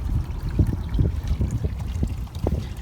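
Water from a garden waterfall dyed with Hydra Blue liquid dye flows and splashes steadily, a continuous close trickling and pouring with small irregular splashes throughout.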